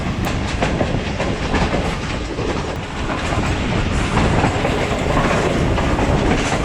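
Riding the Allama Iqbal Express from Sialkot to Lahore as it runs through Pejowali station, loud continuous rumble and rhythmic clickety-clack of wheels over rail joints fill the coach, close and unbroken, with no voices.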